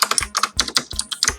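Rapid clicks of keys and a mouse button at a computer, pressing Shift with a right click while playing Minecraft, a quick close burst of about a dozen sharp taps with no talking.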